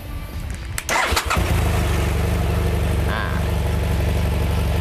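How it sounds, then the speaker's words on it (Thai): A BMW X1 (T90 model) engine cranks and catches, then settles into a steady, even idle that carries on without any talk. "ต้องลองติดเครื่องยนต์ดูครับว่าเครื่องยนต์สามารถเดินเบาได้เหมือนเดิมไหม"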